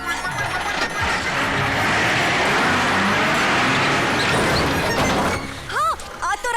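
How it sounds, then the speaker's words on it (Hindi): A car engine turns over, then the vehicle reverses and drives toward the listener, a loud, dense roar with harsh crashing texture that eases near the end as voices briefly speak. "अभी गाड़ी स्टार्ट करेगा, रिवर्स में जाएगा और सीधा हमारी तरफ आएगा।"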